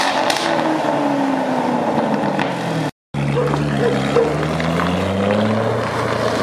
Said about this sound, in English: it crackles and pops way, way more